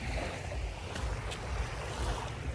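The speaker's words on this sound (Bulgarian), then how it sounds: "Значи, стигнахме до морето. Сега ще ви покажа и водата и всичко." Sea surf rolls steadily at a Burgas beach before sunrise, a continuous broadband wash of waves with wind buffeting the microphone, fairly close and without pauses.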